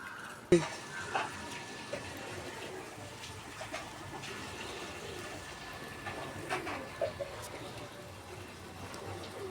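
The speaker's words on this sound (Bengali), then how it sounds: "আমি এভাবে শিরাগুলো টকবক করে ফুটিয়ে নিলাম" Sugar syrup boiling and bubbling in a pan for homemade sweets, a low steady hiss of bubbling with occasional clinks of a spoon against the pan, close and quiet.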